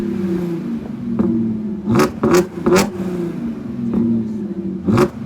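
A modified 500+ hp Audi A6 with a dual pulley, its exhaust barking in several short, loud revs over a rumbling idle, heard up close.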